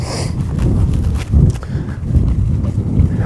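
A horse trots with hooves beating a steady rhythm on soft ground in a round corral, close by, with low rumbling thuds and some background noise.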